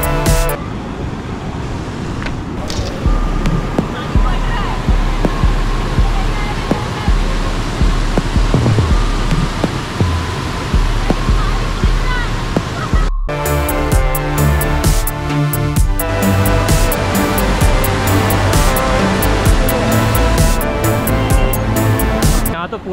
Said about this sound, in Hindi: और यहाँ पे जो है ये पूरा पानी आ रहा है यहाँ से।